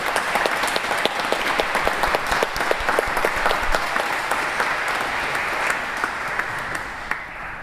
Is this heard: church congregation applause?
yes